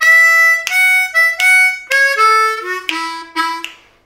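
Solo harmonica plays the turnaround of a boogie tune, a run of bright reedy notes stepping downward in a quick rhythm, loud and close with no voice.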